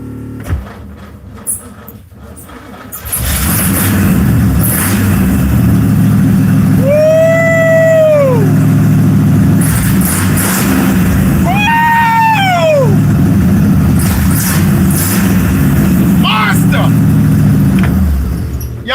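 An older car engine fitted with a continental kit catches and settles into a loud, rough idle close by, with two rising revs that whine up and fall back, while people talk and cheer over it.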